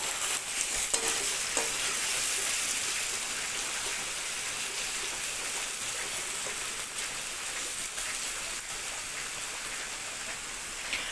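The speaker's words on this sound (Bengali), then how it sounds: "আমি আবারও নাড়িয়ে নিলাম" Food browning to a light golden colour is stirred in a frying pan, giving a steady, close sizzle and crackle with soft scraping that runs evenly throughout, with no talking.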